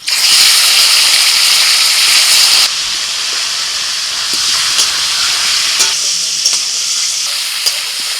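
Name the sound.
chicken added to hot pot with whole spices, sizzling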